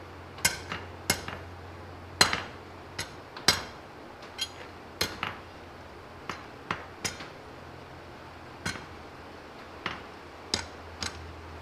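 Hammer blows on hot steel at an anvil during blacksmith forging with a flat-faced hammer, sharp metallic strikes spaced irregularly, sometimes doubled, fairly faint over a low steady hum.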